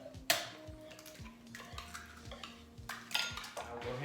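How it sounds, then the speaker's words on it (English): Eggs whisked by hand in a bowl for chocoflan batter, with quick scraping clinks of the whisk against the bowl and a couple of sharper taps, set against a low background hum. "we're gonna use a whisk to kind of blend our batch"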